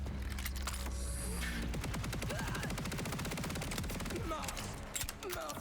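Rapid SMG fire in Borderlands 4, a long run of fast, evenly spaced shots roaring close and loud across most of the stretch, mixed with other game effects; a voice may be faintly present underneath.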